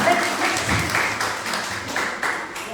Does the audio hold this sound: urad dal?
no